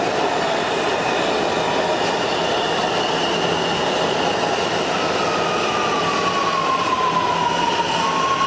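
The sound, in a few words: Washington metro subway train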